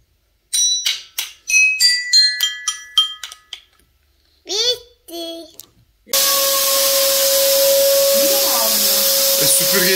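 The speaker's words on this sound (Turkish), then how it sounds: "Süpürgeyi çalıştırınca sen," Household vacuum cleaner switching on and running loud and steady with a whining tone, following a stretch of voices and a pet's sounds in a village home.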